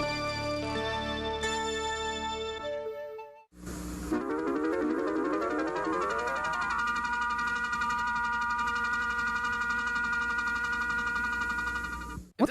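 Tonal electronic alarm tune plays alone: a short melodic intro, a brief gap, then a loud, repeating warbling alarm pattern that holds steady to the end.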